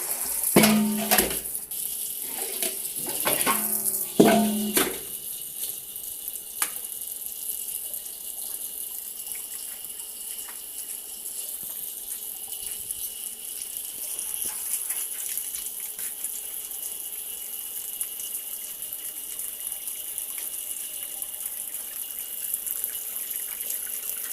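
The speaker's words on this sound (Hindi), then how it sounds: "ये अम्मा अपनी चप्पल धो रही है।" A steady gush of water runs from a tap as an older woman washes her muddy slippers at a household sink, with a few louder splashes and clatters near the start, then continuous flow.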